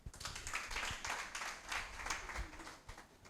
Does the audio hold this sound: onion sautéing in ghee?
no